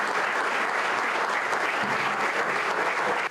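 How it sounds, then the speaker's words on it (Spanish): Dense, sustained applause from an audience after a children's theatre performance, many hands clapping evenly and loudly for several seconds before cutting off. "aplausos de aprobación"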